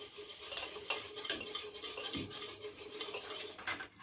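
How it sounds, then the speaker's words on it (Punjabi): A spoon scrapes and clinks against a bowl as curd is whisked for makhana raita, quick irregular stirring strokes, close and fairly quiet with no talking. "ਦਹੀਂ ਨੂੰ ਬਸ ਥੋੜਾ ਜਿਹਾ ਫੈਂਟ ਲਾਂਗੇ ਹੁਣ"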